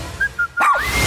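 A dog gives a short burst of barks and yips while chasing someone in the morning, sharp and close, with brief tonal whistle-like notes just before it.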